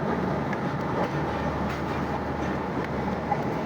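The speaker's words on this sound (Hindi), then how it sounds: "महमूद कोट से गाड़ी रवाना हो गई है अगले स्टेशन के लिए" The Thal Express train rumbles steadily along the rails after leaving Mehmood Kot station in Pakistan, a loud, continuous roar with faint rhythmic clatter throughout.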